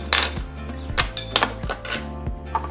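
Avocado halves are scooped out with a metal utensil against a bowl, giving a string of sharp clinks and scrapes in an irregular rhythm, close and moderately loud, with no one talking.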